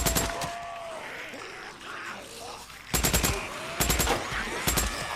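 Rapid bursts of automatic gunfire in the video game Days Gone, several clusters of sharp shots over a steady background din, with brief lulls between volleys.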